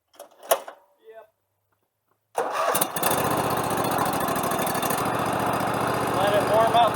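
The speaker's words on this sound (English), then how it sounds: "Let it warm up a minute or two. Don't want to rev the engine when it's cold." A Husqvarna lawn mower engine is pulled and fires up after a few brief clatters, then settles into a steady, loud idle as it warms up, close by and continuous to the end.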